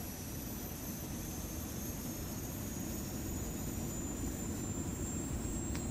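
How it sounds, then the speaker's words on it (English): An auxiliary power unit spools up on an Embraer Lineage business jet in the xCrafts flight simulator, a steady, loud turbine roar with a high whine that holds constant throughout. "Now the APU is starting, and this airplane has some really good sounds."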